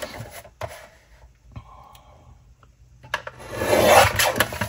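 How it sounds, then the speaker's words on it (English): A paper trimmer slices through old planner dividers to make tags, heard as quiet rubbing and sliding followed by a louder, drawn-out scraping cut close by. "We can trim it with our trimmer."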